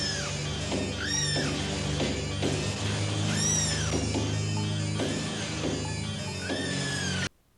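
Cats meow repeatedly over a droning, noisy industrial soundtrack from the film Tetsuo the Iron Man, several drawn-out rising and falling yowls spaced a second or two apart before a sudden cut.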